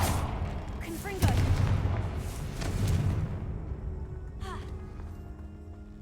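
The Confringo spell bursts in Hogwarts Legacy inside a long-abandoned, decayed place: a booming fiery blast with crackling explosive debris that tails off, heard just after a spoken incantation, with further faint echoing crackles later.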